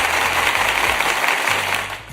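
An audience applauds in a dense, steady wash of clapping that fades slightly at the end, with no talk over it.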